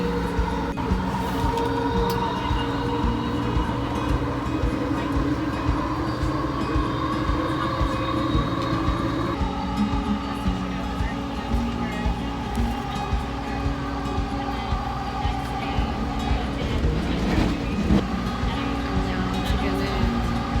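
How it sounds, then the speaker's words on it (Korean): JFK AirTrain airport rail train heard from onboard, a steady loud rumble of wheels and motors with shifting tones and brief horn-like notes, continuous for the whole ride. "공항 철도를 타고 이제 자메이카역으로 가는 길이에요"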